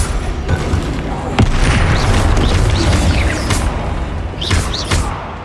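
Bombarda and Confringo spell blasts boom in the Hogwarts Legacy video game, loud, layered explosions with rumbling low end and crackling debris, repeating in quick succession amid combat sounds and brief voice cries.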